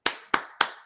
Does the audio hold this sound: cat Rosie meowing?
no